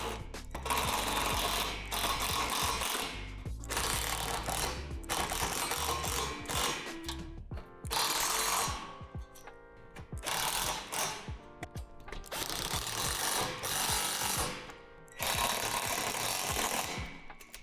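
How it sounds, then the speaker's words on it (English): Hardware on a Lifetime Big Stuff swing set is tightened with self-tapping screws: loud, close mechanical whirring and ratcheting in about six sustained bursts, with short pauses between them. "go ahead and tighten the hardware"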